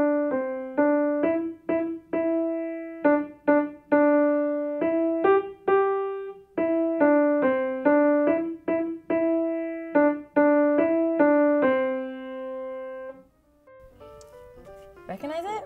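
A simple, slow beginner piano melody of single notes played one at a time starting from middle C, with short pauses between phrases, clear and close.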